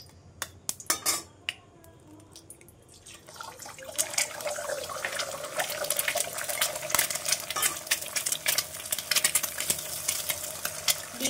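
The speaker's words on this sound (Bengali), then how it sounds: "ডিম দুটো ভেজে নেব।" Two eggs frying in white oil in a wok: a few sharp clinks of a utensil against the pan, then a loud, continuous sizzle and crackle that fills the rest, with scraping and spatula taps over it.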